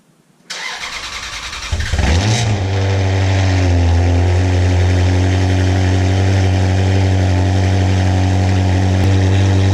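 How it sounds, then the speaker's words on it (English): A Ferrari 360 fitted with a loud Capristo exhaust cranks over and fires up, then settles into a strong, steady idle with a deep rumble that fills the rest of the recording, heard up close. "So this is the most noisy Capristo exhaust that you can get to a Ferrari 360, and it is a beautiful noise."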